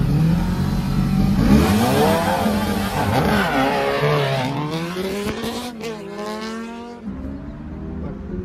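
A Benelli 600i and a Kawasaki Z900 motorcycle accelerate hard in a drag race, engines revving loud and close with rising pitch through gear changes, then receding into the distance.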